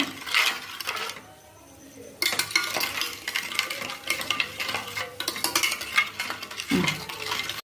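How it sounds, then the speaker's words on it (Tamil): Paste being stirred in a double boiler on the stove, with repeated spoon scrapes and clinks against the metal bowl and a short quiet gap early on, fairly close and with no talking. "நல்லா மிக்ஸ் பண்ணிகிட்டே இருந்தோம்னா ஒரு நல்ல பேஸ்ட் கன்சிஸ்டன்சியில் வருங்க."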